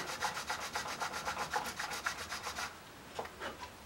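A cane reed rubbed back and forth across a sanding board gives quiet, rhythmic rasping strokes, about a dozen evenly paced passes, then a pause and a couple of final strokes.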